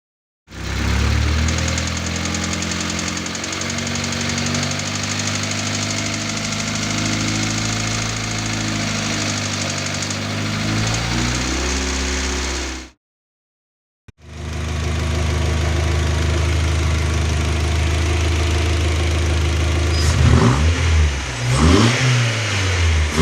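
A newly built turbocharged 1.8-litre engine with a GT2860RS turbo in an Audi A4 B5 runs steadily with fluctuating pitch, cuts out briefly, then returns with sharp revving bursts near the end.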